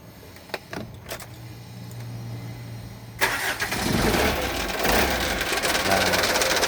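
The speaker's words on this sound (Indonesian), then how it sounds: "mesin saya hidupin dulu." A car engine is started for an alternator check: a few clicks and a low hum, then a sudden crank that catches into a loud, steady running idle, with a person talking in the background.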